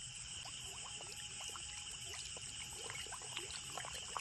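Fish in a village farm pond splashing at the water's surface, a faint continuous watery trickle and patter with scattered small splashes, under a steady hum of background noise and night insects.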